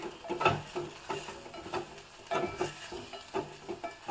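Capsicum and mint fry in a pan for a dal, a faint crackling sizzle with repeated soft scraping stirs coming in an uneven rhythm, close but fairly quiet.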